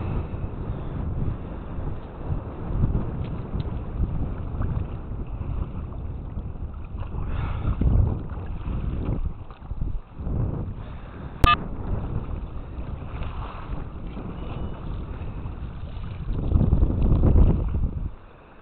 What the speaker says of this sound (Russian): Ну и ветер, конечно.